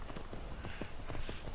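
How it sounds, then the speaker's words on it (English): Horse hooves galloping up a mountain in Skyrim, a quick steady clip-clop rhythm close by and fairly loud against a dense game background. "That would be so hard for that horse carrying a person to run all the way up this mountain."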